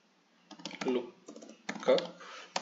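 Keys clack on a computer keyboard while an Excel formula is entered, close bursts of quick typing separated by short pauses.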